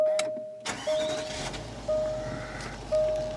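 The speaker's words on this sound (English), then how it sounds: "I'm assuming now that when I start the car up, it should all be there." A Range Rover engine cranks and fires up, a sharp burst settling into a steady idle, with repeated short electronic chimes sounding over the running engine.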